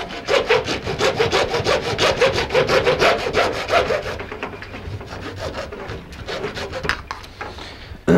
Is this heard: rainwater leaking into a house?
no